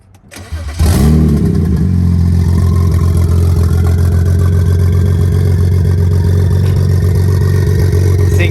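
BMW 335i with an N54 engine fitted with upgraded 19T turbos cranks and catches, then settles into a loud, deep, steady idle with light revving, close by and with no talk.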